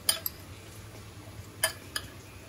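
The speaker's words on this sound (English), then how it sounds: "let's mix this a bit" Chilli garlic prawn salad being tossed in a bowl, with a few sparse soft clinks and taps of utensils against the bowl over a faint low background hum, quiet and close, no talking.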